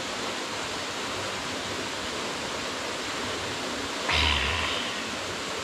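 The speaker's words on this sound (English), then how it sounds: "We saw the waterfall" A hidden waterfall in Eaton Canyon, Pasadena, makes a steady, even rush of falling water heard from a distance, with a brief louder bump near the end.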